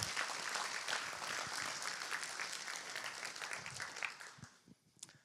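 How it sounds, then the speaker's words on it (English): A round of applause for RUMC members fills a hall, dense clapping held steady before thinning and fading out toward the end, fairly faint overall. "let's give a round of applause to every single RUMC member"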